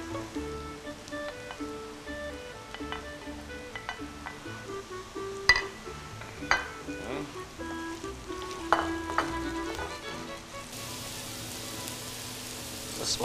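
Carrots and other vegetables frying together in a pan with light oil, a steady soft sizzle running throughout with occasional faint clinks, heard alone without talk.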